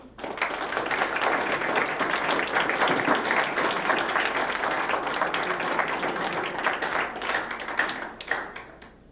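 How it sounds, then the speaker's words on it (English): A school assembly audience gives dense, sustained applause, many hands clapping loudly and close for several seconds before the sound thins and fades out near the end. "Let us give them a thunderous round of applause."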